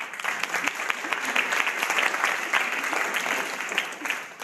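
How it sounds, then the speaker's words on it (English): An audience at a live event in St. Louis breaks into applause, a dense patter of many clapping hands that holds steady throughout without dying away. "little applause for that, please"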